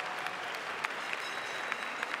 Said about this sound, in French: je crois que vous pouvez l'applaudir très fort